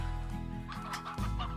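Chickens in the Slime Rancher video game cluck in quick, close, bright bursts over a steady game-music hum.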